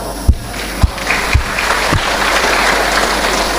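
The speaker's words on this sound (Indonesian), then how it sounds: "Tepuk tangan." Applause from a church congregation during a sermon, starting with a few sharp separate claps and then settling into a steady, spread-out clapping wash that fills the room.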